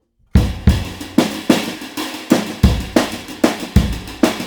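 A drum kit plays accented hits grouped in fives, about a dozen sharp strikes with cymbal wash spaced in a steady, slightly uneven rhythm, loud and close with no voices.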